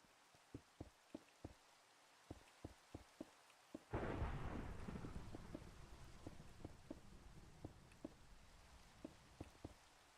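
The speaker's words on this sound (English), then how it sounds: "Thunderstorm, no." Minecraft thunderstorm: a loud thunder crash bursts in partway through and rumbles on under steady rain, while sharp, evenly spaced clicks tick across the whole scene.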